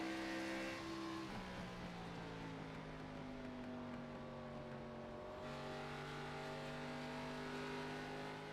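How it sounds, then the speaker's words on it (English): Race cars at Phoenix lifting off the throttle into a turn during an ASRL championship night, engine note dropping then holding steady as several cars drone past, loud and continuous with no talk. "You just hear the off throttle time here at this track."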